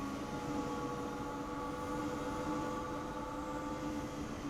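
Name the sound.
Class 411 train moving in the video game Train Sim World 6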